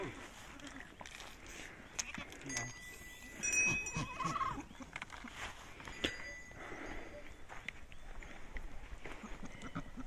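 Goats bleat now and then from a mixed herd during a PPR vaccination drive in Nepal, with footsteps, handling noise and people talking over the farmyard background.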